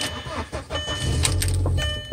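A car being stolen has its lock assembly turned with a screwdriver; the engine cranks briefly, then catches and runs with a steady low rumble, close and fairly loud.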